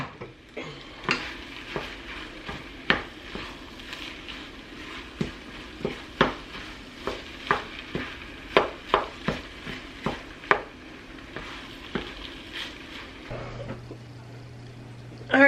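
Pork fried rice with sesame oil frying in a pan: a soft continuous sizzle under about twenty sharp scraping and clinking stirring strokes in an irregular rhythm, close up, with a low hum near the end.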